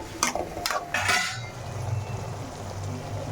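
Onions and tomatoes being sautéed in oil, a few sharp metal clinks of a spoon against the pan up front, then a quieter low bubbling sizzle carrying on alone.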